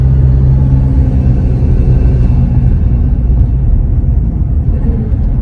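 A 2021 Chevrolet Colorado diesel pickup engine with aFe parts revs in a steady, loud low rumble close by, with a faint rattling texture throughout and no voices.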